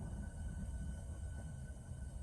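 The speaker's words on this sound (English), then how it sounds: "here we are now approaching Woolwich Arsenal with a dual pair of City Beam Class 707s" A pair of coupled Class 707 electric trains draws into Woolwich Arsenal, heard as a steady, loud low rumble with a faint whine running through it and no voices.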